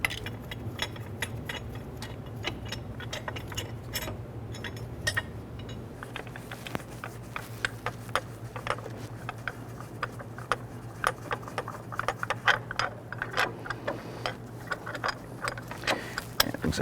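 Ratchet and wrench clicks loosening bolts on a 2012–2017 Toyota Camry engine during a water pump replacement: quick, uneven metallic ticks in short bursts over a low steady hum, close and fairly quiet.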